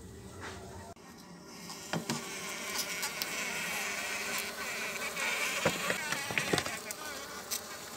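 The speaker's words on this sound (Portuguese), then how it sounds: "coloca no copinho aqui, ó, e fornece direto pro enxame." A swarm of stingless bees buzzes around a cup of sweet feed at a meliponary, a close, steady hum with scattered small taps and rustles and a sharp knock near the start.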